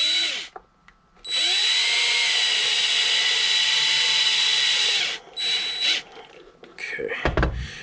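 A power driver sinks wood-style screws into brass toe plates on blind-stitched Cobbler Union boots: a steady, loud motor whine lasting about four seconds, then shorter bursts, ending in a knock.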